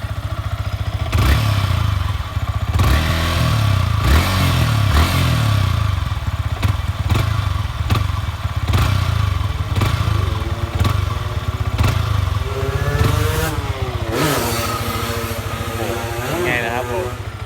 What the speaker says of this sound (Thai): เพราะรถมันเป็นหนึ่งสูบนะครับผม เสียงเครื่องประมาณนี้เลย เดี๋ยวผมจะเบิ้ลให้ดูแล้วก็ รอบตัดสักหนึ่งรอบนะ